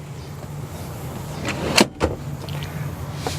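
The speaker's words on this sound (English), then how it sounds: "you can simply press this button located here and the seats will move forward" Second-row seat of a 2020 Kia Telluride three-row SUV sliding forward under electric power at the press of a button, a steady motor whir with a couple of sharp mechanical clunks near the end.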